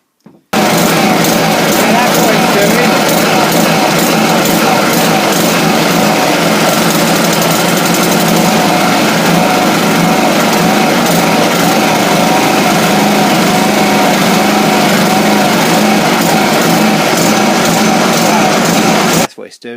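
A Honda HRB 476c lawnmower with a carburettor problem runs steadily and loudly close by, its engine whine holding a continuous drone that rises and falls slightly as it surges, with no talk over it.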